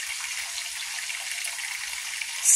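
Steady crackling sizzle of bacon frying in oil in a frying pan, fairly quiet and constant, with a brief louder hiss at the end.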